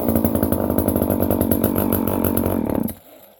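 An older chainsaw runs loudly and steadily up close for nearly three seconds, then abruptly cuts off, leaving faint quiet.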